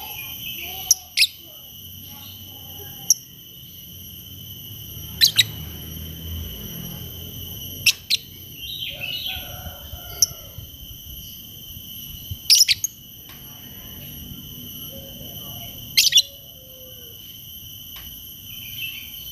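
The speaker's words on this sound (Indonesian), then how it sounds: "mendengarkan suara burung ini" Sharp bird chirps and short song phrases sound intermittently in a quiet setting, with a steady high insect-like whine in the background.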